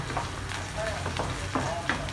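Onions and a sprig of curry leaves frying in a pan for dosa fillings, a continuous close sizzle with a few stirring scrapes over its short length.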